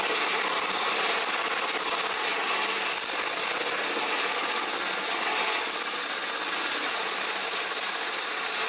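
A wood lathe spins a wooden plate while a narrow gouge cuts it, producing a loud, unbroken rushing scrape that holds steady throughout.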